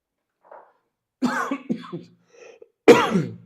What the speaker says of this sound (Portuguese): Deu uma tossida aqui.